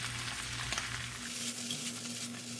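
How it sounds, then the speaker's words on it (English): Vegetables stir-frying over medium-high heat for yakisoba, a soft continuous sizzle with a low steady hum underneath, fairly quiet and without speech. "Over the medium to high heat, you can stir fry the vegetable first."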